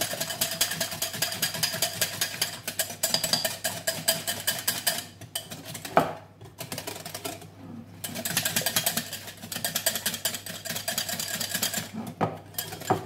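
Yorkshire pudding batter is whisked to get the lumps out, a rapid, steady rattling whir against the bowl that keeps going in long runs with a few brief pauses and one sharp knock.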